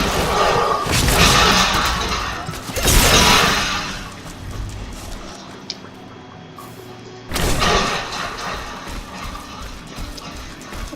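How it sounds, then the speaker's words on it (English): A necromancer's corpse explosions in Diablo 3 go off as heavy booming thuds in bursts, with a loud blast near the start, another around three seconds and a third later on, over low game ambience. "Some more corpse exploding."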